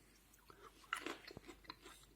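Someone chews a foraged green olive pickled in brine, producing a few soft, close crunches and wet bites in a brief, quiet burst.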